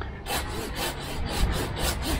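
A hand pruning saw cuts through a Japanese privet branch in rhythmic back-and-forth strokes, about eight rasping pulls in quick succession, close and fairly loud with no speech.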